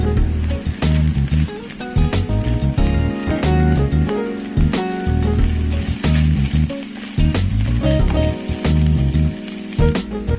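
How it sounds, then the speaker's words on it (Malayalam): Ginger garlic paste sizzling in hot oil with fried onions while a prawn pathiri masala is cooked, giving a loud, steady close-up sizzle and crackle throughout. "നമുക്കിനി ഇതിലേക്ക് ജിഞ്ചർ ഗാർലിക് പേസ്റ്റ് ചേർക്കാം."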